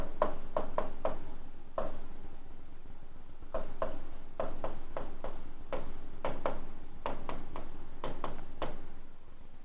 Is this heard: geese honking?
no